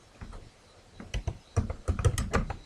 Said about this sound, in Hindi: जैसे मैं कुछ कंट्रीज़ के नाम टाइप कर रहा हूँ